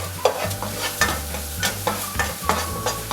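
Egg frying in reused oil in a pan, giving a steady close sizzle with regular stirring or spatula scrapes about every half second and a low background hum.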